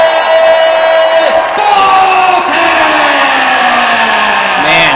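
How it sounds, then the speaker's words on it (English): Dense arena crowd at a welterweight kickboxing fight in Commerce, a loud continuous roar of cheering and whoops with rising and falling tonal lines cutting through, sustained for the whole stretch. "Man, the crowd is electric here tonight in Commerce, baby."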